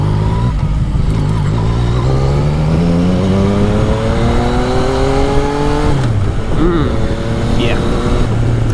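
A motorcycle fitted with an aftermarket exhaust accelerates hard and close, its engine note climbing steadily through the revs, dropping briefly at a gear change around six seconds, then rising again.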